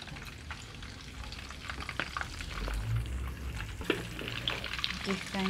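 Egg-coated rellenos filled with ground meat fry in a pan in El Salvador, a soft sizzling and crackling with scattered pops and utensil clinks, low and fairly faint throughout.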